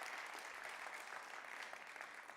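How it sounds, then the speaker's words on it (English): An audience at a live event applauds, a brief, steady wash of many hands clapping, fairly faint and even from start to finish. "Can we please clap it up for them"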